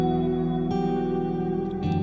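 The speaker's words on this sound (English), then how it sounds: "There's the guitar, this pad with Portal in it, and the Prophet." A sustained Prophet synth pad layered with guitar and a Portal-processed pad forms a dense, steady harmonic wash with echo and reverb, a small change near the end, purely instrumental.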